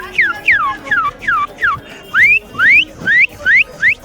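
A man at a Kabul bird market whistles a canary imitation, a run of about ten quick bright whistled sweeps, first falling then rising, clear and close with faint market noise beneath.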